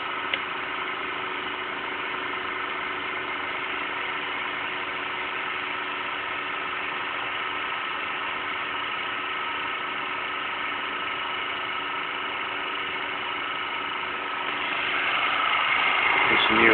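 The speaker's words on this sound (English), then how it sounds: "The motor is nice working." A Newman motor replica runs steadily with an even mechanical hum and faint rattle, holding constant before swelling slightly louder near the end.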